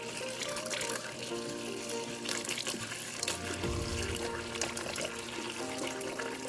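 Water gushing steadily from a Samsung fridge dispenser to flush a newly installed da29-00020b filter, a continuous close splashing stream into a container with a brief low gurgle partway through, no voices.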